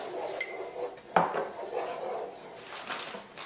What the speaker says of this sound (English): I'm going to take it completely off the heat to start stirring in the cheese.